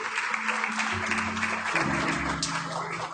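A congregation clapping in church during a worship service, a dense continuous wash of applause mixed with sustained music tones underneath.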